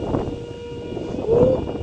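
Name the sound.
passing train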